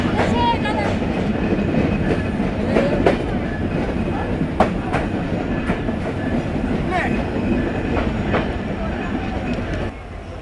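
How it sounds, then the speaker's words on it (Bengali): The Kapotaksha Express, running from Khulna to Rajshahi, pulls out of Darshana station with a steady loud rumble and rhythmic wheel clatter from inside the carriage, with occasional sharp clicks. "আমাদের ট্রেন দর্শনা হল্টে যাত্রা বিরতি শেষ করে ছেড়ে দিল দর্শনা থেকে"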